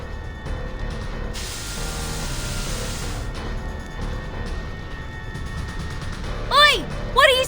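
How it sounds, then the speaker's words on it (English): A steady, hissing spray of spores runs for several seconds in the game Reverse: 1999, with a brighter burst near the start, over a busy background of effects and a few sharp chirping accents at the end. "What are you spraying?"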